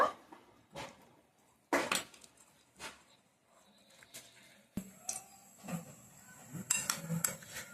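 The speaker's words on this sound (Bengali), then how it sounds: "জিরে গুঁড়ো লঙ্কা গুঁড়ো দিয়ে আমি মেখে নেব একটু তেলও দেব" Fish being hand-mixed in a bowl with cumin powder, chili powder and oil, scattered clinks and knocks of fingers and utensil against the bowl with soft rubbing in between, close and fairly quiet.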